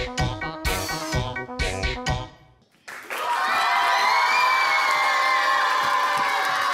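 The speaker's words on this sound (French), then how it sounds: "J'espère que vous avez remarqué que les applaudissements ont changé de couleur" After a few bars of music end, a crowd of children breaks into loud, sustained cheering, shouting and applause that fills the rest of the moment with an even roar.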